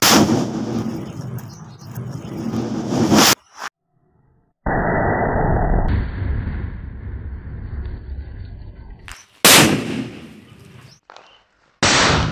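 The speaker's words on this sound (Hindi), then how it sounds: "तो फाइनली आपने देखा यार, कैसा धमाका हुआ था। बहुत तेज़ी से धमाका हुआ था।" A homemade bomb wrapped in aluminium foil goes off with loud, sharp blasts, several bursts separated by brief silences and followed by rumbling, crackling aftermath.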